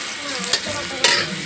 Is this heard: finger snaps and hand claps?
no